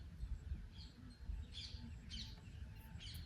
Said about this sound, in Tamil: பேக்ரவுண்டில் வந்துட்டு சின்ன சின்ன குயில் கத்துறது,